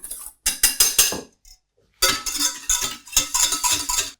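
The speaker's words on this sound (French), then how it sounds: "je prends tout simplement le fouet et je mélange" A whisk beats a sorbet stabilizer mixture in a bowl, giving rapid bursts of metallic clattering strokes, close and fairly loud, with a short pause between runs.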